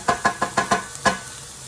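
Peppers and onions charring in a pan for pepper steak, heard as a quick series of about six sharp sizzling bursts in steady rhythm, close and fairly loud, with no talking.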